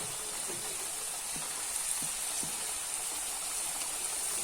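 Karam appalu frying in hot oil, a steady hiss of bubbling oil with faint crackles and a few soft knocks, continuous and close with no voices.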